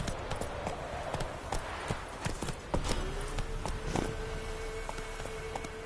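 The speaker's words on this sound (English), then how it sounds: "Run, Roach." Roach, a horse in The Witcher 3, moves with a steady run of hoof clip-clops, fairly close and continuous. A voice speaks briefly over the hooves.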